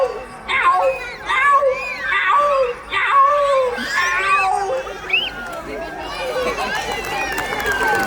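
A performer's voice imitates a cat meowing and calling to its kittens as a string of wavering, nasal mews, close and fairly loud, with crowd and children's voices murmuring in the background.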